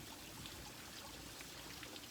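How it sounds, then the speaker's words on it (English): Soft, continuous trickle and splash of a front-yard water fountain, a faint even burble with no voices. "we're out here next to the water fountain, so you'll hear some water sprinkling around"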